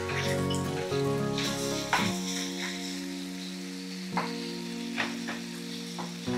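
Chicken mince sizzles in hot ghee with spices, giving a crackling fry with several scraping stirs through the pan, steady and close.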